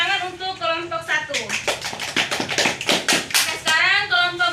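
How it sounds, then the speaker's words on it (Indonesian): A short burst of scattered hand clapping from a small group of students in a classroom, framed by a teacher speaking before and after. "tepuk tangan untuk kelompok 1"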